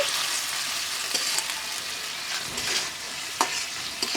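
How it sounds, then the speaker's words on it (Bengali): Goat meat being stir-fried with spice paste in a pan, a continuous bright sizzle with scraping stirring strokes and occasional sharper crackles, close and without talk. "আমি খুব সুন্দরভাবে নেড়ে চেড়ে খাসির মাংস অ্যাড করে নিচ্ছি মশলা কষার সঙ্গে"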